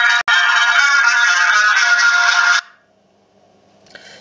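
A Nokia S251 copy mobile phone plays a loud power-off tone, one sustained bright melody lasting about two and a half seconds, broken by a short gap near the start, then silence with a faint blip afterward.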